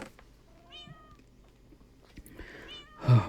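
A cat in the Minecraft video game meows twice, with rising-and-falling pitched calls against a quiet background, and a soft thump closes the clip.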